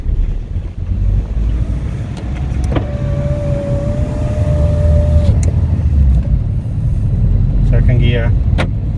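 A worn Fiat 500 runs with a steady low engine drone under heavy wind and road rumble while moving through the gears, with a brief thin whine mid-way and a few clicks and rattles near the end.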